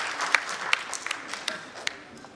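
An audience at an Indonesian chamber of commerce energy, oil and gas meeting claps for an arriving minister, a short burst of scattered, fairly close handclaps.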